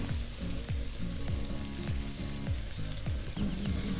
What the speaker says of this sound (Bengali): আমি গ্যাসের ফ্লেমটা একটু কমিয়ে মশলা কষাবো, যাতে কাজুর পেস্টের সঙ্গে মশলা কষানোর সময় মশলা তলায় না লেগে যায়।